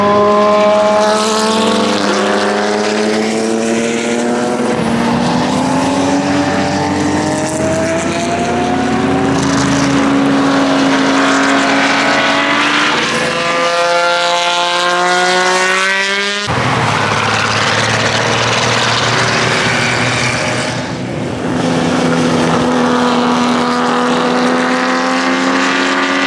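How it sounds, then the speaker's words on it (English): Classic Le Mans Legends race cars on demo laps, several engines roaring past in turn with rising and falling pitch as they shift gears, loud and continuous. "Here comes the Le Mans Legends display cars on the demo"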